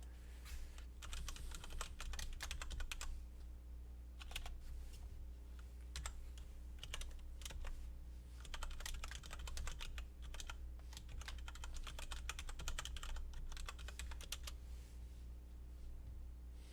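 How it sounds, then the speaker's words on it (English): Steady typing on a computer keyboard, dense runs of quiet clicks with short pauses, continuing throughout over a low background hum. "I'll just type it in."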